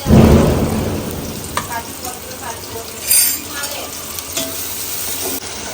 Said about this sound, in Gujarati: તેલ ગરમ થાય એટલે આપણે એમાં ડુંગળી નાખી દઈશું